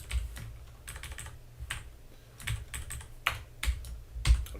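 Fast, irregular clatter of keys on a computer keyboard, close and clear, with bursts of taps and a few heavier key strikes in quick succession.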